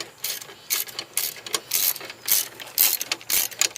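A ratchet clicks in quick, uneven bursts as it tightens a part during maintenance on a Subaru Baja, with sharp close metallic ticks separated by short pauses and no talk.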